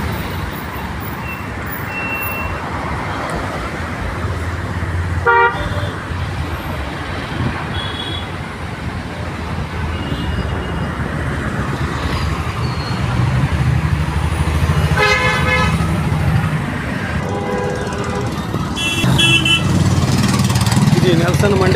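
Busy road traffic in Munirka village, Delhi, heard from a moving vehicle, with a steady engine and road roar and several short car horn toots, nearby and distant, sounding over the din.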